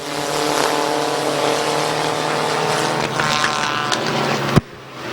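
Race cars roaring around the oval at Midvale Speedway, a loud continuous engine drone with rising and falling pitch as cars battle through a turn, ending in a sharp bang and sudden drop.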